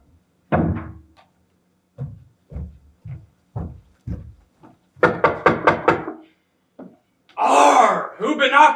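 Several separate hard knocks on a wooden door, a single knock and then a run of spaced thuds, followed by a quick burst of rapid knocks, before a person starts speaking.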